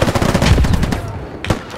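A PKM machine gun in the Squad military game fires close by in a rapid, loud burst that cuts off after about a second, followed by one more sharp report.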